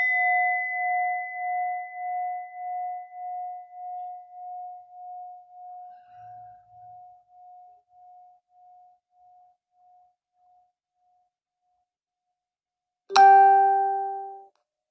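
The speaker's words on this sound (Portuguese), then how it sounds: "a gente vai começar essa pausa com o som do sino" A mindfulness meditation bell rings once, a clear pure tone that pulses and fades slowly over about ten seconds, followed after silence by a second sharp strike that rings out brightly.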